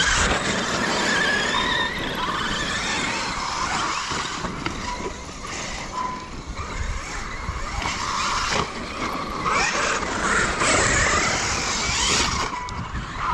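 A Losi radio-controlled car, one of the Super Baja Rey, Rock Rey or Lasernut 8S models, drives with constant throttle and braking, its motor whining loudly and close with squealing skids throughout.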